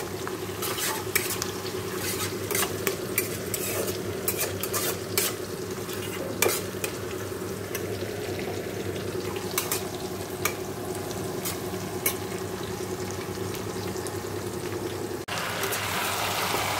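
Chicken cooks in a pan alongside onions fried with whole garam masala and potatoes, a continuous close sizzle with frequent sharp scrapes and clinks of a spoon against the pan over a low steady hum, without speech.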